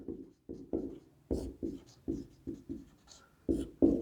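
Marker or chalk writing on a board in a classroom lesson on basic electricity, a series of about ten short scratchy strokes in uneven rhythm, close and fairly quiet, with no voice over them.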